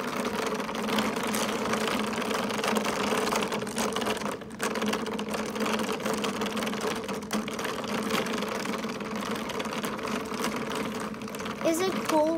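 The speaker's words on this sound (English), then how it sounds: "Look at all these gears going." Kaleido Gears kinetic toy turns with a steady mechanical whirring and faint rattling clicks, continuous throughout at moderate loudness while a person talks over it.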